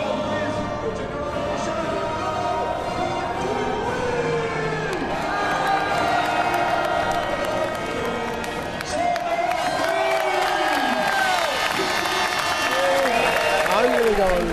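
A dense crowd cheers, shouts and whoops as spectators invade the pit lane after an Audi endurance race, with steady applause and excited voices filling the whole stretch at a loud, even level.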